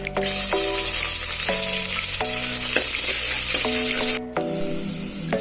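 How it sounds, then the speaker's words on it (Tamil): Onions sautéing in hot oil with mustard seeds and curry leaves for a cabbage kootu, a loud steady sizzle broken by several sharp stirring scrapes, with a brief dip near the end. "வெங்காயம் நல்லா வதங்கிருச்சு"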